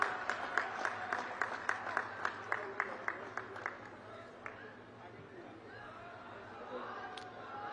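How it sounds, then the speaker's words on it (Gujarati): An audience at a Banaskantha election rally addressed by PM Modi claps in a steady rhythmic beat that fades after a few seconds into faint crowd murmur, heard from a distance. "તાળીઓના ગડગડાટથી ફરીથી વધાવીશું"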